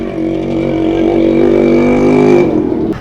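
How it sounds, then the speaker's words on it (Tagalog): Tricycle engines idle and rumble at a tricycle queue in Cavite city, a loud, close, steady motor drone with a rough buzzing tone that cuts off near the end, no speech over it. "Ito ang pila ng toda ng tricycle dito sa lungsod ng Cavite."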